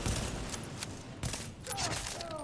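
Rapid bursts of gunfire in the video game The Division crackle continuously, a loud fusillade of shots with sharp peaks layered over game noise, no talking.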